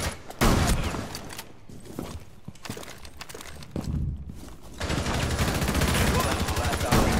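Shotgun blasts and reloading in a Rainbow Six Siege-style shooter, sharp loud bursts with mechanical handling sounds between shots, dense and close amid game ambience, with some voice present.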